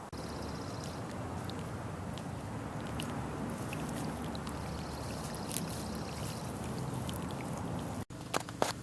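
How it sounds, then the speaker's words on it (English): Steady broadband rush of water falling down a cliff face, continuous and fairly close, with a few faint higher splashes and a brief break near the end. "there is actually a bit of a waterfall running down the cliff"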